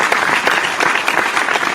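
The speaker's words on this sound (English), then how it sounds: "we got to give that one an applause, right?" Steady clapping fills a craft beer show, brisk and close with individual claps audible within the dense applause, holding at an even level throughout.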